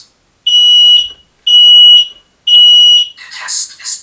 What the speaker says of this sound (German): Der Alarm ertönt laut.